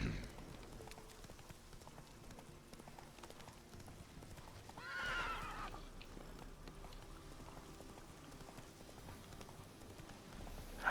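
Roach the horse in The Witcher 3 clip-clops at a steady walk, quiet and distant, with a brief soft whinny near the middle over faint patter-like ambience.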